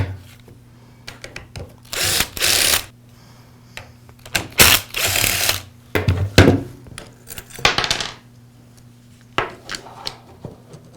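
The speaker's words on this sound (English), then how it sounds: "Now I'll remove these two screws, and that'll allow me to pull the rest of the handle assembly away." Screws come out of an Echo string trimmer handle assembly during throttle trigger repair, with repeated bursts of a small power driver whirring between clicks and handling noises, close and fairly loud.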